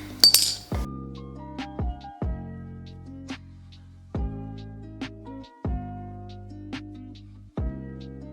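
Razer keyboard keycaps dropped one by one into a bowl, a sparse series of bright clinks and small ringing taps, close and quiet.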